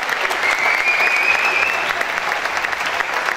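Steady, dense audience clapping at a school awards ceremony, held at an even level from start to finish, with a faint whistle-like tone briefly riding over it.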